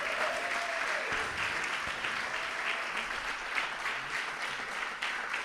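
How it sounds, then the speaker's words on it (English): Sustained audience applause at an outdoor Diwali celebration in Trafalgar Square, London, a dense, steady wash of many hands clapping that fills the whole stretch at even loudness. "let's give a big round of applause to the Chinmaya Mission UK organization"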